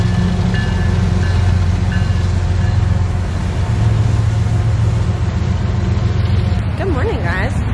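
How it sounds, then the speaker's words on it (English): A train rumbles past close by in New Orleans with a low, continuous roar and some metallic squealing near the end, while a person talks over it. "I don't know if you can hear me or not over the train"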